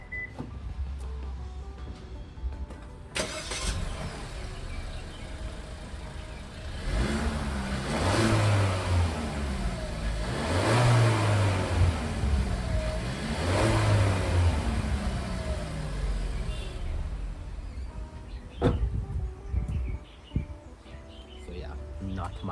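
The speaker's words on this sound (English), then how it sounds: "let's do a sound check of what the car sounds like with the stock blower valve or recirculating valve" A Suzuki Swift Sport engine revving repeatedly with its stock recirculating valve, three rising and falling surges over a steady idle, with voices speaking and faint birds chirping in the background.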